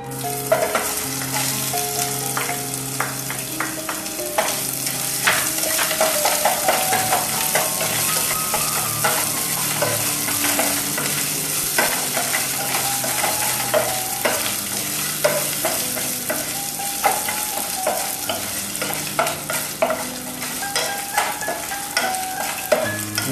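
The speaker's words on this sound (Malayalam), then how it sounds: "ഇതിലേക്ക് ഇനി നമുക്ക് ഇഞ്ചിയും പച്ചമുളകും ചേർത്ത് കൊടുക്കാം" Ginger and green chilies sautéing in hot oil in a pan while making rava idli, a steady loud sizzle with frequent spoon scrapes and stirring knocks throughout.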